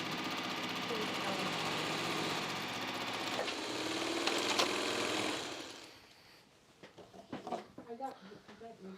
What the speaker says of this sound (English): I'm going to wind a bobbin